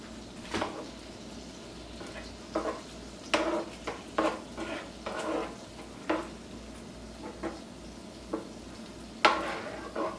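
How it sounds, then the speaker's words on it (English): Ground beef warming in sauce in a pan, stirred with a utensil that scrapes and knocks against the pan in irregular bursts over a soft, faint simmer. "I'm also going to go ahead in with the ground beef. And I'm just going to warm this sauce up a little bit."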